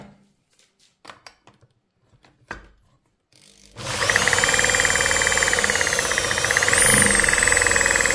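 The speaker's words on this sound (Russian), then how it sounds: "И попробуем дрелечку." After a few quiet clicks and handling noises, an electric drill, just given a drop of oil, starts up and runs with a loud, steady whining hum that continues to the end.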